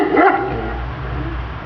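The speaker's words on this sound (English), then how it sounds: "My dog's in the background, it's kind of distracting." A pet dog barks once loudly up close, then a lower rumbling engine exhaust through headers, 40 series Flowmasters and Cherry Bomb turbos drones steadily beneath it.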